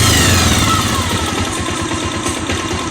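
A Bajaj Pulsar 150 motorcycle engine runs loud and close with a steady, throbbing idle and slight rises in revs throughout, with no voices.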